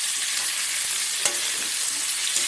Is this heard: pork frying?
yes